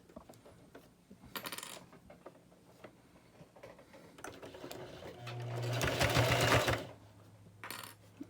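A sewing machine stitches a face mask tie in two short bursts of fast, whirring needle ticks, the second longer and louder, with quiet handling clicks between and no speech.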